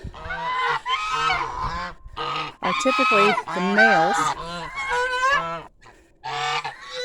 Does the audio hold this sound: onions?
no